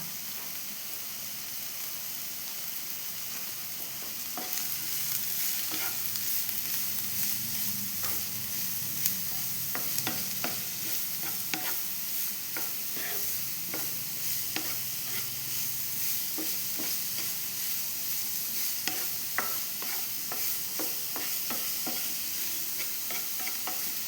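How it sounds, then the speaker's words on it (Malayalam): Onion masala fries in a pan with salt stirred in, under a steady close sizzle that fills the whole stretch, broken by frequent small ticks and scrapes of the spoon. "മസാലയ്ക്ക് വേണ്ട ഉപ്പ് എല്ലാം കൂടി ഒന്ന് ഇളക്കി കൊടുക്കാം"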